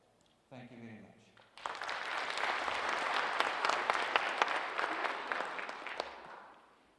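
After a brief spoken line, an audience bursts into dense, steady applause for a professor, holding for several seconds before tapering off.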